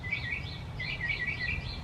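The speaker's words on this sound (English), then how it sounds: "Oh, the birds are saying hi too." Birds singing outdoors, a repeated high chirping phrase heard a few times in short bursts over a low background hum, with no talking.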